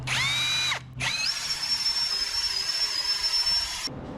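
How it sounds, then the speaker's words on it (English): A power drill bores lag-screw holes in a C-Dory 24 TomCat boat, starting with a short high whine that breaks off, then a steady, loud, whining bore lasting a few seconds before it stops abruptly. "I marked my holes where I need a drill, and I marked my drill bit so I don't go past the required depth"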